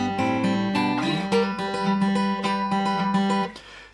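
An acoustic guitar plays the fingerpicked intro of a song at full tempo, with a steady rhythm of plucked notes and ringing strings, heard clearly and alone.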